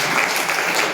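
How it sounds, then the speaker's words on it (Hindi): A brief burst of dense audience clapping at a religious quiz gathering in Bhopal, loud and close, lasting about a second. "बहुत बढ़िया, जोरदार ताली।"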